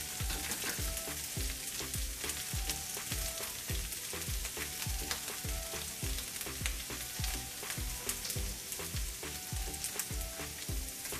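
Okra frying and being stirred in a pan, a steady loud sizzle broken by regular scraping strokes of the spoon, repeating about once a second throughout with no voices.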